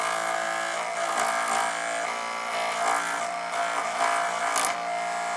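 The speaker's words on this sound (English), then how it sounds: "I'm going to turn on the Chompsaw and then move them both pieces upwards so that I can get a nice angle" A Chompsaw cardboard saw runs steadily through an angled cut in cardboard, giving a continuous close buzzing, rattling motor drone with small rises in intensity, with no talking.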